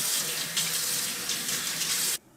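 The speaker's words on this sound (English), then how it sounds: "Now I'm going to rinse it under the water with the brass brush." Steady running tap water pours over a copper earring as a brass brush scrubs it clean, a continuous close hiss of flowing water that cuts off abruptly near the end.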